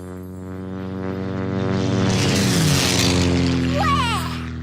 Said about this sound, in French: ce sont les avions qui font le plus de bruit